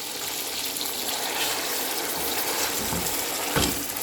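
Marinated chicken fries in hot oil in a pot, a loud continuous hiss and sizzle up close with one brief louder burst near the end, with no talking.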